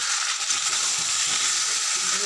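Fried potatoes and eggs in a pan with a little water give a loud, steady, close sizzle and hiss that runs unbroken from start to finish.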